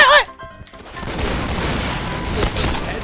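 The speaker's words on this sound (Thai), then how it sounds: "ต้องยิงอย่างนี้ค่อยๆยิงเป็นจังหวะ" Rapid bursts of Jackhammer shotgun fire in the shooter game Point Blank, loud, close blasts following a short whistling tone, with some background chatter.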